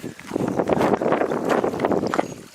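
Gusts buffet the microphone outdoors on a daffodil farm, a steady, loud rumbling roar with rough fluctuations and no clear speech.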